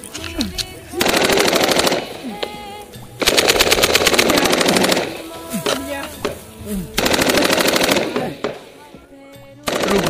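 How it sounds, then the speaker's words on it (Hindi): Long bursts of rapid automatic gunfire, loud and close, separated by short pauses in which a few shouting voices can be heard. "गोली चल रहा है भाई, भाई देख के भाई।"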